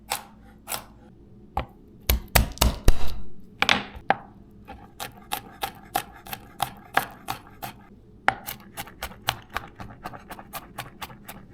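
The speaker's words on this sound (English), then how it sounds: "while I finish mincing the garlic" A kitchen knife mincing garlic on a cutting board: a close, crisp tapping that runs as a steady series of quick chops, with a denser burst of heavier strokes early on before the rhythm settles back into evenly spaced taps.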